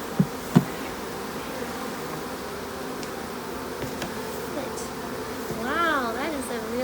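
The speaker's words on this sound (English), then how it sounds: "There's a bee." Honeybees drone steadily around a hive being installed, a close, continuous buzz with a couple of sharp knocks early on and a voice rising briefly near the end.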